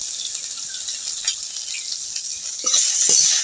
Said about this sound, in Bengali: এবার আমি বেগুনটা একটু ভেজে নেব